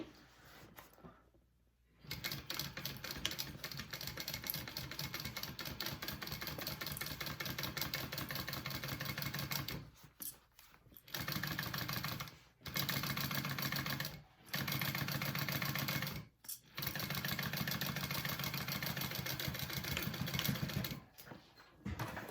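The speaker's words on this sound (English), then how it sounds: "the last thing to do is just sew up this pocket and we are done" A sewing machine stitching up a backpack pocket runs in long, loud, steady bursts with a rapid mechanical whirr, pausing briefly between runs, up close.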